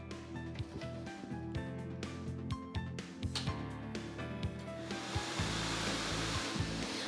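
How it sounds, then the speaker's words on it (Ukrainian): A lottery drawing machine starts up for a televised Megalot draw, its balls rattling and clattering with busy knocks before a strong rushing blower noise swells and takes over, heard without speech. "Вмикаємо лототрон."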